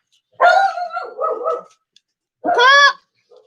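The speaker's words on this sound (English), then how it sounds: "So that's my dogs." Dogs bark indoors at close range, one loud burst of barking followed by a pause and a second sharp bark.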